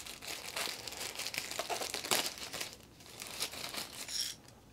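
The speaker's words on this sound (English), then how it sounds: "Plastic bag, let's open it up." A plastic bag holding a small model from a Bambu X1 Carbon 3D printer box crinkles and crumples close up as it is opened. The rustling is continuous and uneven, with no talking.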